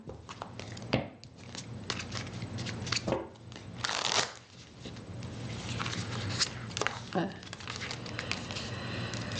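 Repeated riffling and slapping of a small deck of tarot cards being shuffled close by, crisp papery bursts with brief pauses between.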